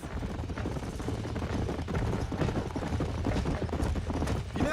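Hooves thud in a steady trot in Red Dead Redemption, dense and continuous, within a busy game soundscape of rumbling ambience and faint distant pops.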